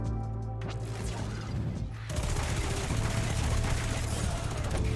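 Death Adder submachine gun bursts in Destiny 2, a quieter burst at first, then a dense, steady, close stream of rapid fire.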